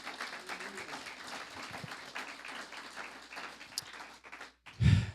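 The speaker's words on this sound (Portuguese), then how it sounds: "Ele merece uma salva de palmas." Scattered applause from a church congregation runs under a preacher's ongoing speech, followed by a brief loud burst near the end.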